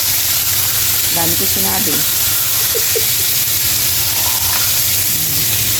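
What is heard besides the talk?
tilapia frying in a pan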